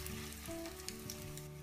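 Egg-dipped bread rolls frying in oil in a pan over medium heat give a steady, close sizzle with broad crackling hiss throughout, with no talking.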